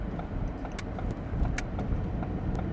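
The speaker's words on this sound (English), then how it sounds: "I'm driving" A steady, low road rumble fills the cabin of a moving car, with light rattles and faint clicks on top and no talking.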